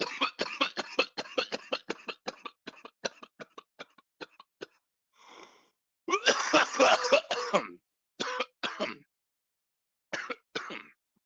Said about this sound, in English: I don't know why, but I cough more on that one.